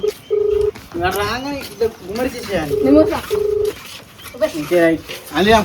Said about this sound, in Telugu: ఫోన్ అయితే రింగ్ అవుతుంది